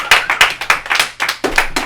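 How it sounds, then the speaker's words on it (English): Audience at a live comedy show clapping after the host is introduced, a steady run of close, crisp hand claps from a small crowd with no talk over it. "Round of applause, yes!"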